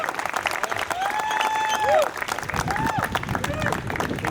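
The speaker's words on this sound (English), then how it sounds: "please give a big applause to Daniel Vogel, co-founder and CEO of Bitso" Audience applauding Daniel Vogel, co-founder and CEO of Bitso, as he comes on stage at a conversation event: dense clapping from a crowd, moderately loud and sustained, with background chatter and tonal sounds layered over it.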